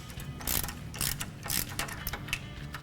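Hand ratchet clicking in short bursts while loosening a brake line bracket on a 2007-2018 four-door Jeep Wrangler JK, several quick ratcheting strokes close by with no talk.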